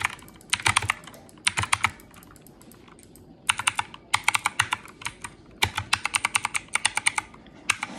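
Computer keyboard keys clatter in quick bursts of rapid presses during a fast-paced video game, with short pauses between the flurries. Each burst sounds close and crisp.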